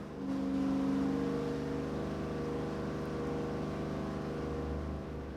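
A big tunnel-ram V8 engine roars at high revs on a dyno, a steady loud growl that holds throughout with little change.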